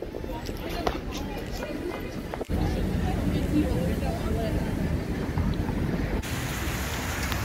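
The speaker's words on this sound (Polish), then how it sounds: "Dzisiaj pogoda trochę nie sprzyja, deszcz pada." Steady rain falls on a New York street on the way to Central Park, a constant close hiss of drops on pavement with traffic rumble underneath, continuing without a break.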